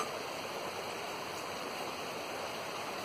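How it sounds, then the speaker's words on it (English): Brewed camp coffee is poured through a filter into a glass, giving a steady, even liquid rush that continues without break and with no talk. "I'm just going to pour the brewed coffee right through the filter to the almost the top of the glass."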